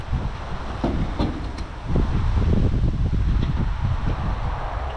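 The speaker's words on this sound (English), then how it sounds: "The wind is terrible." Strong wind buffets the microphone outdoors beside a barn-find Mitsubishi Lancer, a steady low roar of gusty rumble that swells louder after the first couple of seconds and continues unbroken, with no voices.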